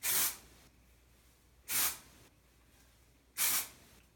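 Three short, sharp bursts of hairspray hiss into hair at close range, evenly spaced about every second and a half, with quiet pauses between them.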